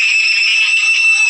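Woman's shrill, sustained scream of terror in a horror audio drama, loud and close, one unbroken piercing cry with no other voices.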